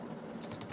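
Typing code on a computer keyboard while setting up an OpenAI API client for a Telegram bot; a short burst of light key clicks, close and fairly quiet, with no talking.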